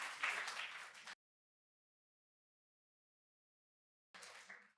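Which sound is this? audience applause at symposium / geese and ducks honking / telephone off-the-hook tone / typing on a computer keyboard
audience applause at symposium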